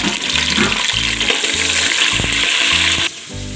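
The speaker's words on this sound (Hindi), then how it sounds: "अब इसके अंदर मैं डाल दूँगी ये प्याज और इनको हल्का ब्राउन कर लेंगे" Onions frying in oil for chana dal pulao, a loud close sizzle with stirring knocks and clatter that drops suddenly near the end to a quieter hiss, no voices.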